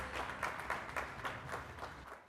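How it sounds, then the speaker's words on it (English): Applause from a gathered crowd, many hands clapping together at an even, moderate level, with a few louder claps standing out. "please a big round of applause for all our winners"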